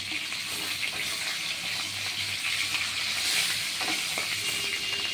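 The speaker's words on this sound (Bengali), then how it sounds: "আর এক পাশ ভাজা হবে, বেশ লাল করে ভাজতে হবে" Oil sizzles and crackles steadily as fish head fries in a pan, a constant close hiss with a few soft clinks, no talking.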